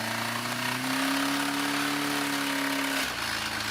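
A car engine drones loud and steady with a rough, buzzing tone as a piston fails, then abruptly drops to a lower, smoother running note near the end.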